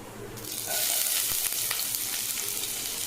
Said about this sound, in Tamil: சீரகம், ஒரு ஏலக்காய், கிராம்பு, இது பட்டை போட்டு தாளிக்கிறோம்.